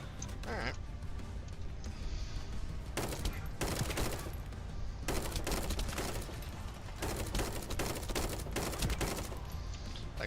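Tactical rifle firing in the video game The First Descendant, bursts of rapid gunfire in several volleys over a steady game background, with pauses between bursts.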